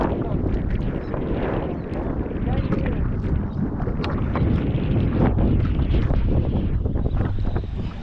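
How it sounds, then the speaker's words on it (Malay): Strong sea wind buffets the microphone in a loud, constant roar out on the water off an island near Melaka during kayak fishing, with people talking underneath. "Kuat angin."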